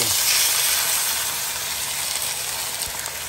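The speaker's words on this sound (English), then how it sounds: "I've got to turn it right down to a sizzle. Yep, that's a sizzle." Food in a camp pan sizzles loudly after water is poured in, a dense continuous hiss and steam crackle that holds steady and eases slightly toward the end, alone with no talk.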